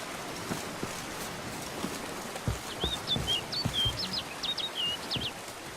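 Short chirping bird calls in The Witcher 3: Wild Hunt, a rapid series of high tweets over a steady rain-like ambience, with a few soft low thuds underneath.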